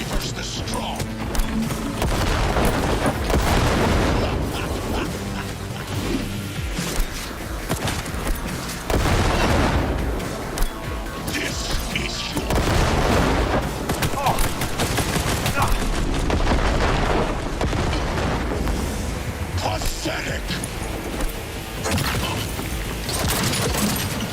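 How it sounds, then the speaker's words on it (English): Repeated heavy blasts and rolling gunfire from grenade explosions in Cyberpunk 2077, loud and continuous with dense booming bursts over a steady battle din, with talk in places. "Whoa, those grenades did loads of damage."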